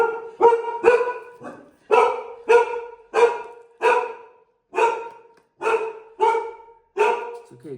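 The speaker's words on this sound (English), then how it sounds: "That was my dog." A single dog barks loudly and close by in a steady run of about eight or nine sharp barks, spaced evenly and heard alone in an indoor room.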